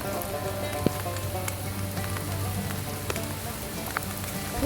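Steady rain patters outdoors around a GMC Sierra during a mirror replacement, a continuous dense hiss with a few sharper drips and taps close by, no talking.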